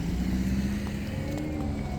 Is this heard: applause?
no